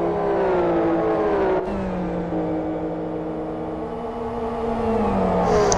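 Race cars in a racing video game, running the Blackwood circuit during a three-hour endurance event, give a loud, continuous engine drone. The pitch holds steady, drops with a shift partway through, then slides slowly lower toward the end.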